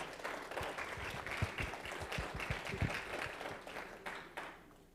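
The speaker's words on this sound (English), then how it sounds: "So let's give a round of applause for Pastor Wallace." A small audience at a First Fridays church gathering applauds Pastor Wallace with quiet, scattered clapping, sharper claps poking out near the middle before the applause thins and fades toward the end.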